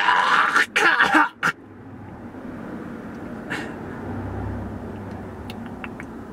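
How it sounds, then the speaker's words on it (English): Several harsh, rough coughs burst out close by in quick succession from someone reacting badly to vaping, then give way to a quiet outdoor background with a few faint knocks. "I automatically get a allergic reaction, which is the cancer cough"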